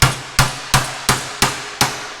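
Six evenly spaced, sharp hammer blows ring on metal while equipment is prepped on a John Deere 6000 Hi-cycle sprayer. Each strike is close and loud with a short decay, and no voices are heard.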